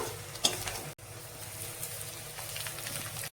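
Chopped garlic fries lightly in oil in a kadai, making a soft, steady sizzle with a few light clinks. The sound breaks briefly near the start and stays fairly faint throughout, with no talking.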